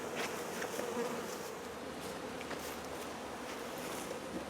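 Honeybees swarm around an open hive during brood work, their dense, steady buzzing holding close and even throughout with no voices.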